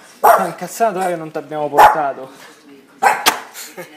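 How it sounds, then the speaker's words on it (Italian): A dog barks in several sharp, loud bursts spread across the clip, with people talking in Italian over and between the barks. "Senti l'altro cane che abbaia"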